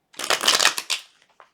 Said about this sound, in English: So let's get this good shuffle again.